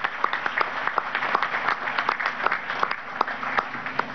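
A crowd applauding steadily at an outdoor event for Venezuelan farm workers, many hands clapping in a continuous, even patter at moderate distance.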